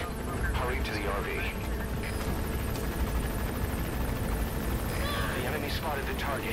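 Helicopter arriving in Metal Gear Solid V: The Phantom Pain, a steady loud rotor and engine drone running throughout with game voices over it.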